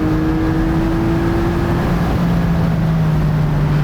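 A 2020 Porsche 718 Boxster Spyder engine pulls steadily in third gear, a loud, sustained drone with a slowly shifting pitch running alone from start to finish.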